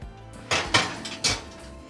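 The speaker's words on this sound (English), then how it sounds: "I'm just going to lay them on my baking sheet. Put them in the oven" Taco shells on a metal baking sheet go into a 325-degree oven, giving a few sharp clanks and scrapes of metal against the oven rack, close and fairly loud, with no talking.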